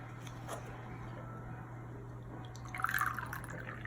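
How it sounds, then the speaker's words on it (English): Hot water from a Jetboil pours into a Wacaco Nanopresso, heard as faint trickling and small drips that end in a brief, brighter splash of liquid, with no voices. "Then you take your jet boil with your hot water, and there's a fill line inside this."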